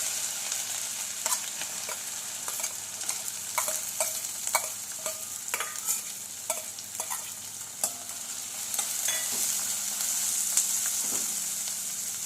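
Onions fry and sizzle steadily in a pan as they brown, with frequent scraping clicks from stirring spoon strokes, all close and without talk.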